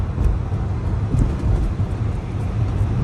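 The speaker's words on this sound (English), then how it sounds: "If y'all can hear all these damn bumps" Inside a Dodge Charger R/T on a city street, a steady low road rumble fills the cabin, with a few dull thumps as the tires roll over bumps. No one speaks.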